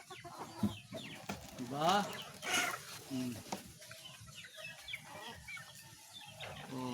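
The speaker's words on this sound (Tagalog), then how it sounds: "paikot-ikot ang ating mga manok" Farm chickens cluck and chatter around a person on a Philippine farm, several birds calling in bursts while someone speaks briefly between them.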